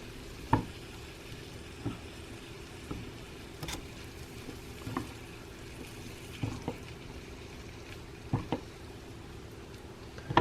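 Baby bok choy stirred in a Dash egg bite maker gives a faint, steady sizzle, with soft utensil scrapes and taps recurring every second or so. No voices.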